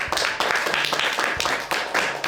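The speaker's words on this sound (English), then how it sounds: "How about a round of applause for Mr." Clapping for guest speaker Mr. Jones in a country schoolroom, coming in a quick series of roughly eight short bursts, fairly close and moderately loud.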